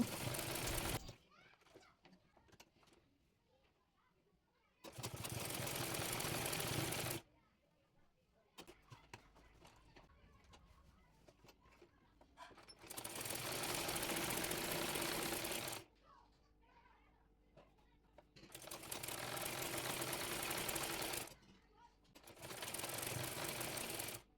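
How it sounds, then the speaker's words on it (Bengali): Sewing machine stitching a fabric-wrapped seam on a kameez, running in four loud sustained bursts with quieter pauses and handling noise between them. "এরপর উপরে একটি কাপড় দিয়ে মুড়িয়ে সেলাই করে নেব।"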